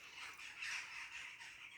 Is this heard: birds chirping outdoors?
yes